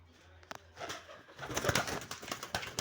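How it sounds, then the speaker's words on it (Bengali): Pigeons kept at a house coo softly and repeatedly nearby, with low throaty calls rising over quiet surroundings along with a few brief rustles. "এই যে একটা কবুতর"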